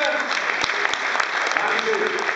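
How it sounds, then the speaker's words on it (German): An audience applauds a politician at a live event, a sustained roomful of clapping with a few sharper individual claps and faint voices mixed in. "Ja, einen Applaus für Markus Söder."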